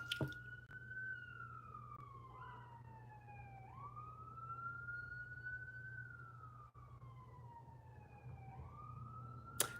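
A siren wails outside at a distance, its tone sliding up and down in long slow sweeps over a low steady hum, faint but clear with no talking.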